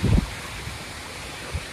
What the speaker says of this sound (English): There's all the water coming in.